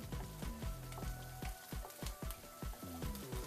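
Five green chilies fry in a pan with quick, irregular popping and spitting bursts over a low sizzle. The sound is fairly quiet and close, with no voices.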